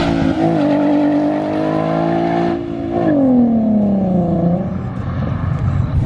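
Cars cruise together at a late-night car meet, engines droning steadily up close with a rising and falling rev as one accelerates, no talking.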